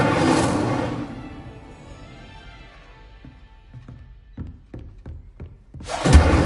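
An Incendio fire spell cast in the Hogwarts Legacy video game, a loud whooshing burst that fades, followed by several soft knocking thuds and then a second roaring fiery burst at the end.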